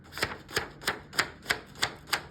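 Paper pages of a Creative Haven coloring book are flipped one after another in a steady rhythm, seven crisp, close swishes with no talk.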